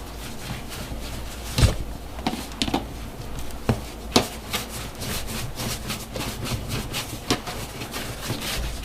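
Hands roll portions of white bread dough into strands on a work surface for a plait, making soft, close rubbing and brushing sounds with a few light taps, steady and fairly quiet.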